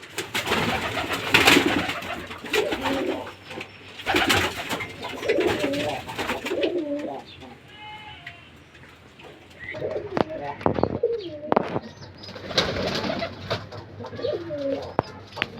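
Pigeons in a rooftop loft coo repeatedly, soft throaty rolling calls close by, mixed with wing flaps and shuffling, scattered bursts and faint chirps through the stretch.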